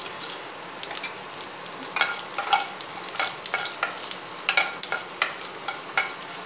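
Chilli frying in hot oil with mustard seeds and urad dal: a bright crackling sizzle with sharp popping bursts and spoon stirring, close and unbroken by talk.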